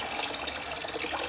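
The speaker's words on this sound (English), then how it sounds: "a bit of hot water in here just to cheer things up a bit" Hot water pours steadily into a cup in a close, continuous splashing stream with no talk over it.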